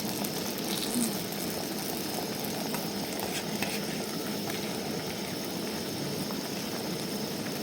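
Stuffed moong dal luchi frying in hot oil, a steady broadband sizzle and bubbling that holds at an even level throughout, close and continuous with no voices.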